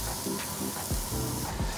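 Tomato paste sizzles and hisses steadily in hot olive oil in a pan, a close, continuous spray-like frying sound with faint stirring scrapes.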